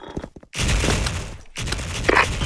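Dense bursts of gunfire and a heavy blast roar through a first-person shooter game, loud and close, with a brief silent gap between two sustained volleys.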